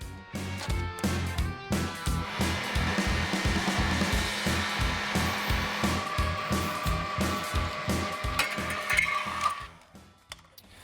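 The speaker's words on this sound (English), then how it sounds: "we'll use a heat gun to apply a little bit of heat to the molding" A heat gun blows a loud, steady whooshing roar close by while heating body molding on an OBS Chevy truck, with rhythmic mechanical ticking underneath, before it cuts off near the end.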